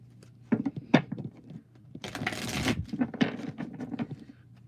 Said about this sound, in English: One more shuffle, and then we'll get to it